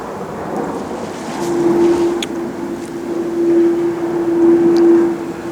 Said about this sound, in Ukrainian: Літаки прямо над головою.